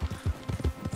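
An American Trotter in Red Dead Redemption 2 clip-clops along in a quick, even rhythm of soft, close hoofbeats.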